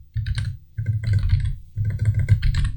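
Typing on a computer keyboard, with rapid clusters of close, crisp key clicks in three bursts separated by brief pauses.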